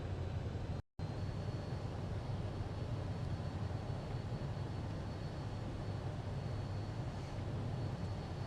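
An airplane flies over an airport in Missouri during a storm chase, a steady, fairly faint engine drone that holds evenly throughout with no talking.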